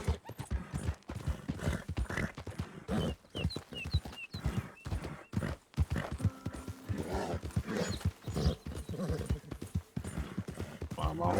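Horse hooves clip-clop steadily while riding in Red Dead Redemption 2, rhythmic thuds continuing throughout with a brief whinny, under someone talking.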